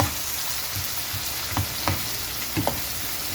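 Tomatoes sautéing with garlic and onion for chicken sinigang, a steady sizzle filling the pan with occasional soft scrapes of stirring, no voices.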